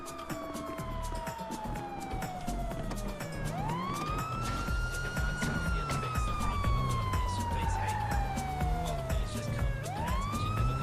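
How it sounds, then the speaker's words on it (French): A police car siren from a GTA V roleplay session wails in long rising and falling sweeps over a low engine drone, loud and steady throughout. "Sirène."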